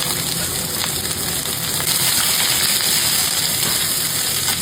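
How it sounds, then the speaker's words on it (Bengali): Chopped onion hitting hot oil with whole spices in a kadai gives a steady, loud, dense sizzle that holds without a break from start to finish, with no talking. "এবারে কেটে রাখা পেঁয়াজটা দিয়ে দেওয়া হলো।"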